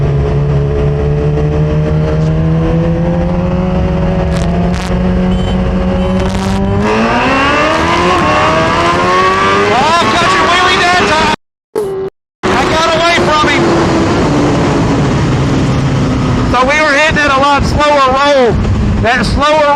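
A 2023 Suzuki GSX-R1000 motorcycle accelerates hard, its loud engine climbing through rising revs with wind buffeting the microphone, a brief dropout midway, then more rapid revving gear changes close up.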